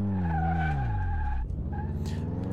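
In Car Mechanic Simulator 2018, a car brakes hard with a loud, close tire skid: a sliding squeal over the engine note as it winds down, then a short further scrub.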